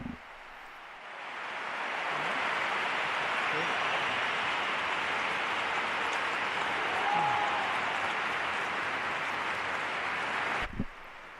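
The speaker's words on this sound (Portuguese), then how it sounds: "Os aplausos, então, depois das palavras do Santo Padre, os fiéis, inclusive, colocam-se de pé" Sustained applause from a large crowd of the faithful after the Pope's address at a diocesan community gathering in Madrid, a steady dense roar of clapping lasting about ten seconds before cutting off.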